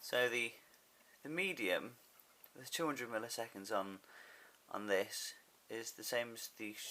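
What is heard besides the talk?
No distinct noise like a dog, phone or traffic.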